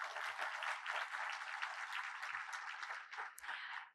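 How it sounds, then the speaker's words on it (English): An audience at the Rose Queen announcement and coronation ceremony applauds in a steady, even wave of clapping that lasts several seconds before it stops abruptly. "One more round of applause, please."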